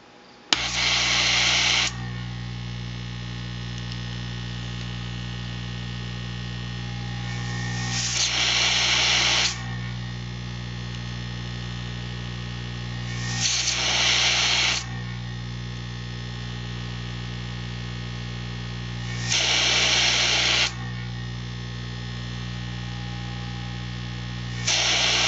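An Aoyue 932 vacuum pick-up tool fitted with a dispensing needle nozzle runs with a steady electric hum and buzz, broken by four short hissing bursts of air spaced several seconds apart, close and alone without talk.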